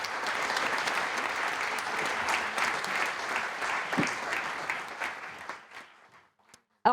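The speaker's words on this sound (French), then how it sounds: "je vous demande de les applaudir et de les encourager." A conference audience at a management school in Grenoble applauds, with dense, sustained clapping that holds steady and then thins out and fades to near silence before a sudden final sound at the end.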